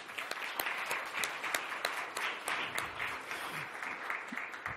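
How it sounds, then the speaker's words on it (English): Audience applause at a leadership summit panel, a moderate crowd clapping steadily for several seconds, with a few sharp individual claps standing out, heard at a slight distance in a hall. "Let's give her a round of applause, please."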